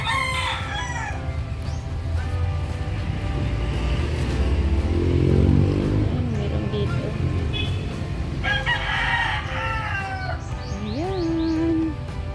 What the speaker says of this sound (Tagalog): Merong manok, hindi naman amin.